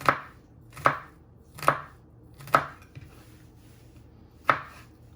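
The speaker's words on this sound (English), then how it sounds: "And just keep chopping it so it's nice and fine." Five sharp knife chops strike a cutting board while dicing pulled pork, at an uneven, unhurried pace, each one loud and close, with quiet pauses between them.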